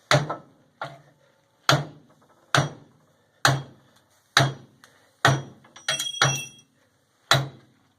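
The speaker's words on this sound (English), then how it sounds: "I'm figuring drift pin with a handle and the proper sledge" Sledgehammer blows on a drift pin with a handle, driving at a rusted receiver hitch: about nine sharp metallic strikes at an irregular, unhurried pace, close and loud, each ringing briefly before fading, with no talking.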